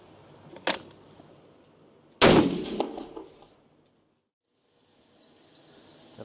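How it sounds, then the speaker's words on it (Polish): A hunting rifle fitted for running-target wolf hunting fires a test shot at a 50-metre range outdoors, one sharp crack followed by a second louder blast that echoes and fades into quiet with insects buzzing faintly. "Jedziemy na 50 metrów i oddajemy strzał kontrolny."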